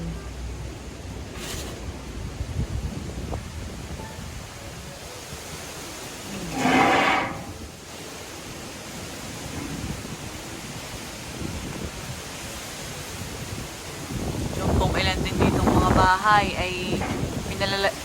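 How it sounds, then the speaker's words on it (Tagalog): Strong typhoon wind battering a seaside town, a continuous roaring rush with gusts that swell and fade, buffeting the microphone, while a person talks intermittently over it. "Oh, lakas ng hangin."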